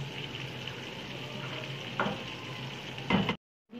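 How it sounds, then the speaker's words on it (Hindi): Potatoes and masala fry in a pan for fish biryani, sizzling steadily and close by, with a couple of brief stirring scrapes before it cuts off abruptly. "इसमें मसाला भी भून जाएगा और आलू भी हो जाएगा"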